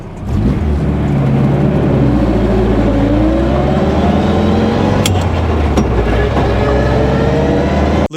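A car fitted with a dogbox gearbox revs and pulls away from a normal start on the street, its engine note loud and close, droning and climbing steadily in pitch for several seconds before cutting off abruptly.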